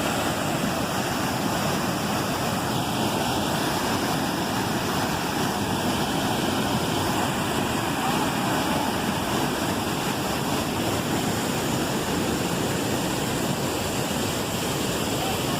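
A waterfall at Presidente Figueiredo in Amazonas roars up close, a loud, dense, unbroken rush of falling water that fills the whole span with no pauses and no talk.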